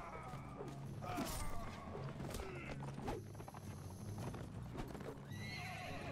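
In Mount and Blade Warband, horse hooves clip-clop steadily while horses neigh and whinny loudly several times, mixed with creaking mechanical battle noise and no voices.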